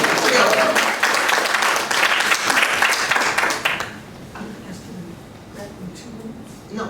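A gallery talk audience bursts into applause, a full round of clapping for about four seconds that then fades into quieter room sound with faint scattered murmurs.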